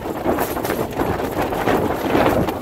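Gusty wind buffeting the microphone at an outdoor tent campsite, a rough continuous rumble that rises and falls throughout, with no voices.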